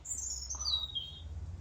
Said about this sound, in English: How beautiful is the bird song?